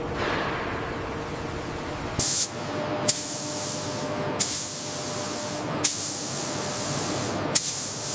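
Spray gun hissing as paint is applied to a high-speed train body in a factory, a steady hiss broken by several short, sharp bursts.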